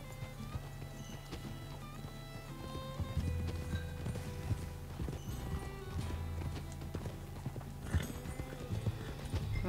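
Horse hooves clip-clop steadily at a gallop through Red Dead Redemption 2, the rhythmic beats mixed with game music and ambience, with an occasional neigh.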